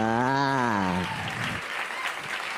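Audience applause greets a stand-up comedian as he is introduced, starting under the announcer's loud voice and then continuing as steady, full clapping from a crowd.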